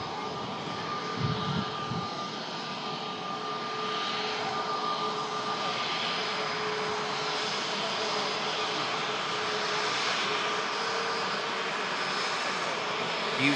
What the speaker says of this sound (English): Wendy Darling just on the takeoff roll now from 2-3 left